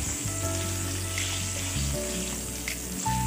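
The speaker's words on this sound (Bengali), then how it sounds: "একটু কাঁচা গন্ধ চলে যাওয়া পর্যন্ত আলুটাকে একটু ভেজে নেব" Washed, cut potatoes frying in hot oil for a Bengali bata fish curry, a continuous close sizzle with a low steady hum beneath it and no talking.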